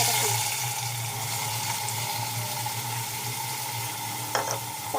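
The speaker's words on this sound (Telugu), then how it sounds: "సో ఆయిల్ అయితే వేసేస్తున్నాము." Oil sizzles in a pressure cooker pan during home cooking: a continuous close hiss over a steady electrical hum, with a short clatter near the end.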